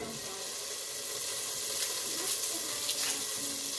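Okra and rice are stirred in a pot, a soft, continuous sizzling and scraping with faint wet clinks, quiet and close, and a few voices murmur now and then.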